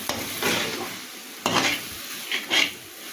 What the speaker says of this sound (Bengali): এবার এই সিদ্ধ করে রাখা নুডলসগুলো দিয়ে দেব এবার ভালো মতো নাড়াচাড়া করে একটু রান্না করে নামিয়ে নেব